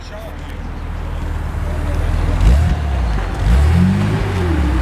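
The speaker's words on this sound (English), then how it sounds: "je vais juste prendre le son de l'exhaust en arrière." Exhaust of a 1985 Bitter SC with a 3.9 liter straight-six idles steadily, then blips twice in short rising revs, heard up close while people talk over it.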